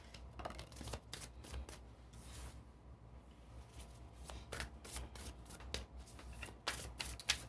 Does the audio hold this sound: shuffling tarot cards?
yes